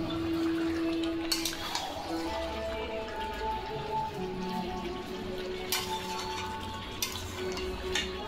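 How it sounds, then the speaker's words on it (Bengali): Chicken kosha sizzles steadily in a pan as a continuous crackling, spattering fry, with a few louder pops. A faint background tone drifts underneath. "ভালো করে ভেজে নিই"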